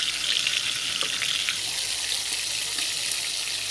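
Pork chops frying in a pan, a steady loud hiss of sputtering oil with small crackles, close and continuous throughout, no voices.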